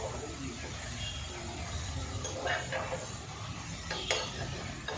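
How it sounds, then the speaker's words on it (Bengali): A spoon stirs chicken stew with mixed vegetables in a pan, a soft continuous scraping and sizzle with a couple of sharper clinks near the end, fairly quiet and close. "ভালোভাবে নাড়াচাড়া করে নিচ্ছি"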